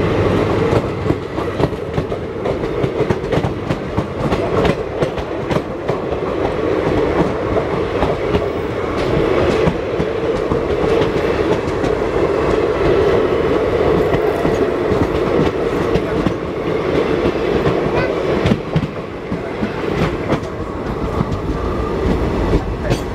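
Nandigram Express passenger train running along the track, a steady loud rumble with rhythmic wheel clatter and rail noise continuing throughout.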